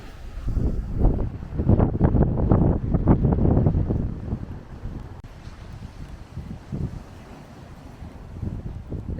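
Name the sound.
strong wind on a beach by the ocean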